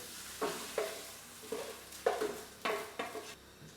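Mushrooms tumble into a pan of beef bourguignon with tomato puree, giving a series of soft irregular scrapes and clatters over a faint steady sizzle.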